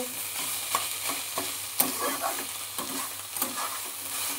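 Banana stem curry frying in a pan, a constant hissing sizzle with repeated scraping strokes of a spoon stirring it evenly, close up and without talk.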